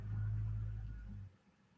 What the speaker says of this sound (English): there's a loud truck outside